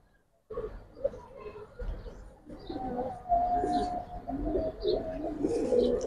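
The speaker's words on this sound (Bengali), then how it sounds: "খয়েরি গলা একটা পেয়ার, মাদিটা অনেক সিনিয়র একটা কবুতর" A brown-necked pigeon pair, the hen an older bird, coos in repeated low throaty phrases close by, growing fuller and more continuous toward the end, with faint voices in the background.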